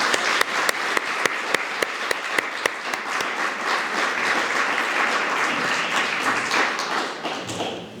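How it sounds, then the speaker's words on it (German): An audience at a Berlin library conference breaks into applause, starting with a few sharp distinct claps that swell into sustained dense clapping before tapering off at the end. "Und ich fände jetzt einen guten Moment, um mal zu gucken, ob ihr klatschen könnt."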